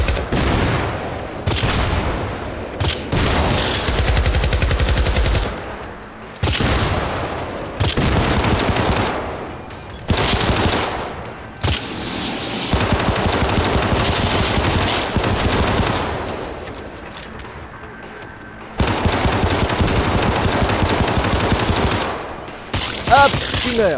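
Cannon and heavy gunfire bursts from the video game Syndicate, loud repeated blasts and rapid automatic fire in dense clusters separated by brief pauses across the stretch.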